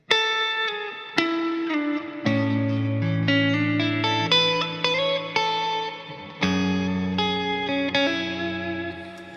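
Clean electric guitar through a compressor pedal picks chords and melodic notes with a soft attack, washed in spacious reverb and shimmer, steady and unaccompanied.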